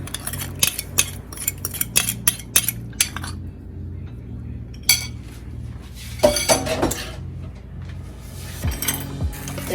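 A utensil stirs whiskey and vanilla pudding into bourbon sauce in a pot. Metal clinks and scrapes come in quick bursts, with a low simmering hum between them and no talk.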